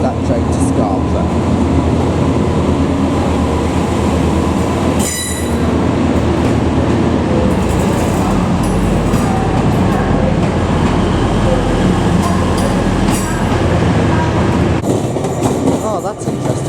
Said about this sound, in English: And off goes that train to Scarborough.